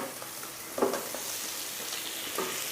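Pre-fried koi fish go into a pan with green chili and onion, frying in a continuous soft sizzle broken by a brief clatter of the fish and spatula.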